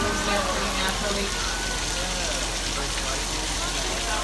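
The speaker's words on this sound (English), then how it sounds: "You put it on top of the film and shoots the water out, goes down pretty naturally." A sprinkler rig makes artificial rain over an outdoor studio set on a tram tour at Universal Studios Hollywood, giving a loud, steady, broadband hiss of falling water that continues unbroken.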